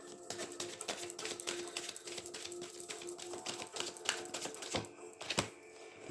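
A deck of African Goddess Rising oracle cards is shuffled by hand, a close, rapid patter of riffling card edges with a few sharper snaps near the end.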